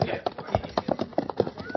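Horses' hooves clip-clop at a steady trot as a radio drama sound effect for a Western adventure, close and rhythmic, with a voice faintly present underneath.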